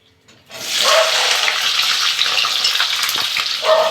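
Onions dropped into hot oil in a pan for chicken chilli: near-silence, then a loud sudden sizzle that holds steady with faint clinks of stirring.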